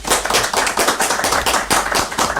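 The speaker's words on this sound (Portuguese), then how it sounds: "Eu quero uma salva de palmas nesse estúdio para Antônio Barreto," Studio audience giving a round of applause for guest Antônio Barreto: loud, steady clapping from several people close by, rhythmic and continuous throughout with no voices.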